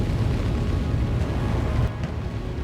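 Explosions rumble on a badly damaged Idris ship in the Star Citizen space game, a dense low continuous booming roar that drops off slightly near the end, with no talking.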